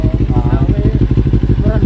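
A 400cc motorcycle with a loud aftermarket exhaust idles close by with a steady, throbbing low rumble, while people talk over it at a roadside exhaust-noise check in Iloilo City.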